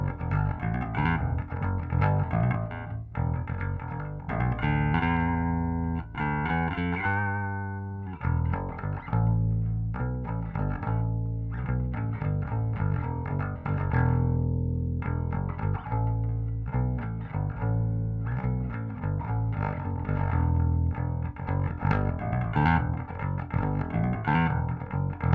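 A bass guitar played on its bridge pickup through a Kemper preset, with a busy, driving line of plucked notes and a growling, slightly distorted tone, heard alone for the whole stretch.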